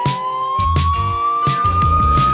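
Ambulance siren from a children's rescue-vehicle song, a steady rising tone that repeats loudly over a bouncy musical backing with no voices.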